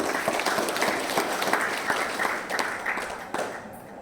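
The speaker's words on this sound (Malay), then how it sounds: "Tepuk tangan untuk mereka." Audience applause for village heads at a thanksgiving ceremony, steady dense clapping from a crowd lasting throughout, fairly close and even in level.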